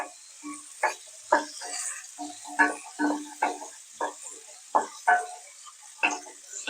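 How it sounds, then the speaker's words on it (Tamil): A cup of small onions for dhaba-style mutton gravy is stirred in a pan, with a soft sizzle under irregular clinks and scrapes of the spoon against the vessel, each stroke distinct. "இப்போ நல்லா வதக்கலாம்."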